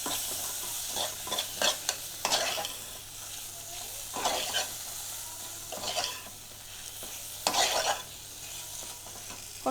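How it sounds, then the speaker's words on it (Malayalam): Chopped tomato and soya are sautéed in a pan, with a steady sizzle and frequent scraping stirs of a spoon against the pan, close up and without voices. "നന്നായി വഴറ്റി കൊടുക്കുക."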